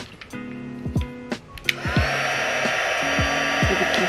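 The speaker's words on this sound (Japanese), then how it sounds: "ドライヤーみたいな感じ。" A hair dryer blows on freshly mixed resin for a sea-themed hair accessory to clear the bubbles. It switches on partway through and then holds a loud, steady whoosh, with brief tones heard before it starts.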